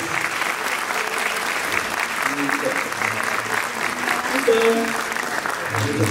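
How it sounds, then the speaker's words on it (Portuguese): Audience clapping in a theater during a music show, continuous and fairly steady, with voices audible beneath the applause throughout. "agora vocês podem bater palmas para a camarada aqui agora"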